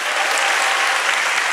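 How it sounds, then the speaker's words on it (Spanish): Steady applause from a theatre audience during a live stand-up comedy show, many hands clapping at once in a thick, unbroken burst heard up close. "Aplausos para"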